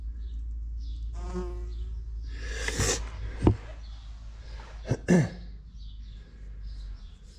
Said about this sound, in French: C'est l'espèce d'abeille.